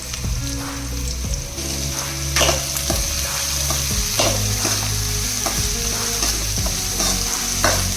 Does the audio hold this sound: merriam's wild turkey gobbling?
no